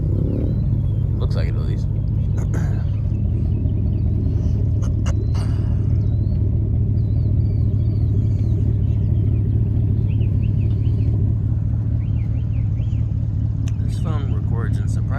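A 450cc dirt bike at a cross-country race at Carolina Adventure World, its engine rumbling steadily in the background under a short spoken remark.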